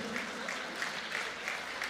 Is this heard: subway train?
no